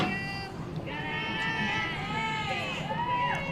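Crowd noise at a high school softball game picked up on a crowd mic: a steady murmur with high-pitched yells and cheers from nearby spectators.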